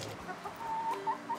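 Pet hen clucking at home, soft repeated clucks and short tonal calls over a low background murmur, close by.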